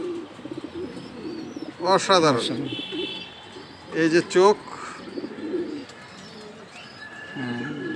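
Racing pigeons cooing in a loft, soft low throaty coos rising in two short clusters, close by, heard under someone talking throughout.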